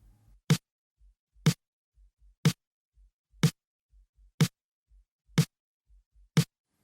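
A mixed snare drum layered with a snare sample hits steadily about once per second, seven sharp loud strikes with quieter low kick-like thumps between them, no voices.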